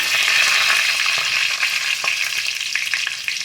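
Cumin, whole garam masala and chili hit hot oil as a tempering, giving a loud, continuous sizzle with scattered crackles and light spatter close by, no voices.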